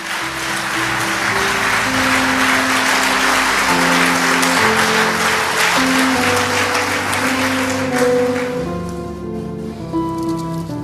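A church congregation at a Sunday service applauds loudly and steadily, a dense wash of clapping over sustained organ or keyboard chords, easing slightly near the end while the music continues.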